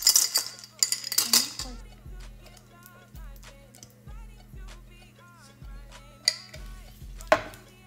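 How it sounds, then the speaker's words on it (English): Ice cubes dropped into a glass for a Nutella cream latte, giving a series of sharp clinks and rattles close up, several separate cube drops spaced over a few seconds, with faint voice in the background. "Let's put some ice in here."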